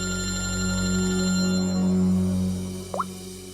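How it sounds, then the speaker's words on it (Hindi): A telephone rings steadily indoors in a Hindi crime drama scene, a sustained electronic tone with a mid-level hum beneath, then a brief chirp as the ringing stops. "सर हॉस्पिटल से फोन था"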